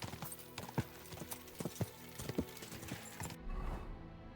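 Horse hooves clip-clopping at an easy pace in a medieval open-world video game, a steady series of soft thuds under game ambience before the sound cuts to quieter background.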